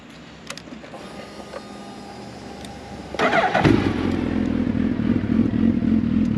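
2014 Suzuki Hayabusa motorcycle with an aftermarket full exhaust: starter whirs briefly, then the engine catches with a sharp burst and settles into a steady, throaty idle close by.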